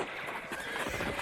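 Horses in a film scene whinny and neigh with clip-clopping hooves, a busy, close mix of calls and movement at moderate loudness.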